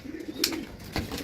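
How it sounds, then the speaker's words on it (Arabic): Pigeons coo with soft low throaty calls in short bursts, close by in a pigeon loft, with faint rustling around them. "في حمام معاه 3 زغاليل"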